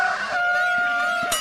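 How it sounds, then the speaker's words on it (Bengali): A jungle fowl in the forest gives a single sustained, honking call, loud and fairly close, with a brief sharper burst at the end. "এই বন মুরগি!"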